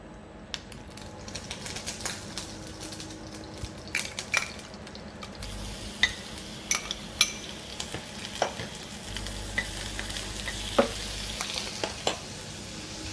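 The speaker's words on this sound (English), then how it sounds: "I will quickly sear off the squid that I have" Baby squid sears in a hot pan with a steady close crackling sizzle, broken by frequent sharp pops and light metallic taps of a utensil.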